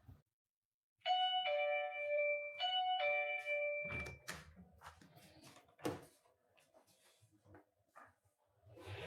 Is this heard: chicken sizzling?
no